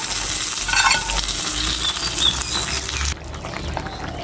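Hot tempering oil with fried dried red chillies and bay leaves poured over greens in a pot, a loud steady sizzle and crackle that cuts off sharply near the end, leaving a softer hiss.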